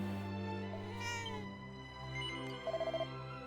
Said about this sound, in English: the kitty purred when we showed it